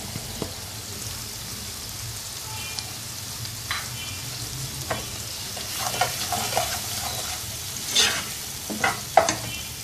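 Spices for whole masoor dal hiss and crackle in hot oil in a frying pot, with a steady sizzle and several sharper spattering bursts and stirring scrapes toward the end.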